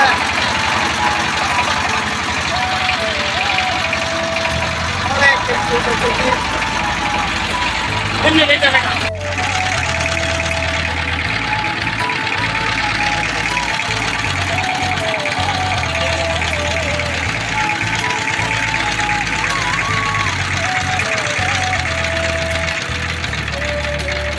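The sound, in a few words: boat engine running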